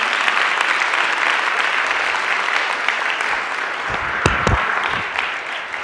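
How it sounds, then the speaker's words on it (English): Sustained audience applause at a Linux talk for speaker Brian Lunduke, a dense, even roar of clapping from a crowd, with a couple of louder close claps or bumps near the end. "a big round of applause for Brian Lunduke and the wild ride he just took us on"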